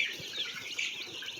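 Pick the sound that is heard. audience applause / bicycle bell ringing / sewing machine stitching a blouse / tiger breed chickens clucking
tiger breed chickens clucking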